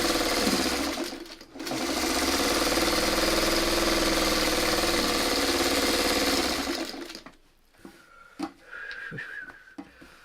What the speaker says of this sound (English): we're pretty much free to sew at whatever speed we want, or to make it comfortable for us.